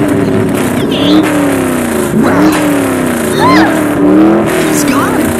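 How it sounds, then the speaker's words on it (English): Sports car engine in a Minecraft game revving and pulling away, rising and falling pitch sweeps repeating across the span, loud and close, with excited talk running over it throughout. "He's stealing the expensive sports car!"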